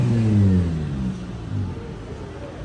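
A vehicle engine revving at a college auto show in Kollam, Kerala: a loud low-pitched rev that rises and then falls away within a few seconds, close to the microphone.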